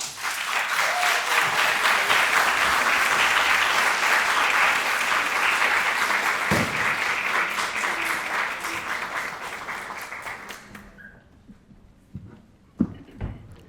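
Audience at a university award ceremony applauds an honoree, a strong, sustained wave of clapping that holds steady, then fades out near the end, leaving a few faint stray sounds.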